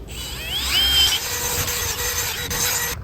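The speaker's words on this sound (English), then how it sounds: "This is the one I'm gonna use, the scotch bright pad drill." A drill fitted with a Scotch-Brite pad scrubs a Toyota 4Runner 5th Gen wheel rim, giving a close, loud abrasive whirring rub with a rising whine that runs steadily and then cuts off abruptly at the end.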